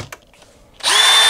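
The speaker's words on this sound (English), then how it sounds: "take a drill and drill it out" A power drill spins up abruptly after a few faint clicks and handling sounds, then whirs loudly and steadily while drilling out a screw in a van.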